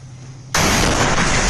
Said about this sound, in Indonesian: Mereka berkati IDF lalu meletakkan peledak ke dalam tank Yonis hingga meledak hebat